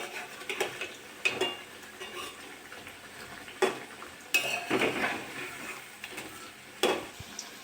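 Frying drumstick flower chops turned one by one in hot white oil in a kadai, with a soft steady sizzle under close scraping and clinking of a spatula against the pan in several short bursts.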